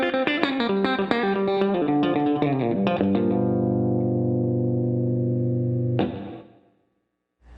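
Chicken pickin' country electric guitar lick played quicker, a fast burst of snappy, clucking plucked notes that slides into a long ringing chord, then a sharp final pluck that fades to silence.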